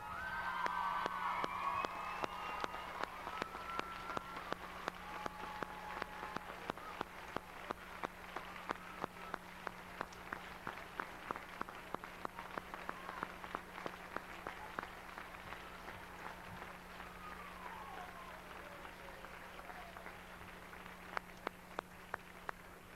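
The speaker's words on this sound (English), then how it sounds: "I'd like us all to stand up and give a round of applause to the faculty and staff of CVU." Applause rises from a graduation ceremony crowd honouring the CVU faculty and staff, a sustained wash of many hands clapping with scattered sharp claps standing out over a steady low hum across the hall.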